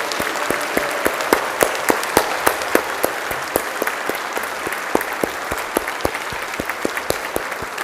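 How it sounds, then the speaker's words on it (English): A church congregation gives a hearty round of applause during a parish service, a steady mass of clapping with crisp individual claps ringing out in a reverberant space, gradually easing off. "I think they deserve a massive round of applause"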